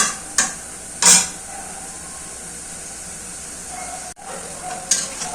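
Broad beans being stir-fried in a pan, a soft low sizzle broken by a few sharp scraping bursts of stirring, close and alone without talk.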